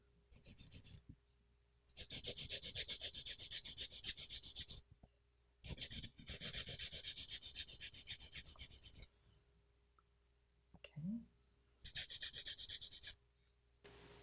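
A nail file rasping across a fingernail in several separate bursts of fast, even strokes, close and crisp with quiet gaps between them.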